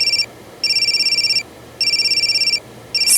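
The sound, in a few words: telephone ringing during a phone call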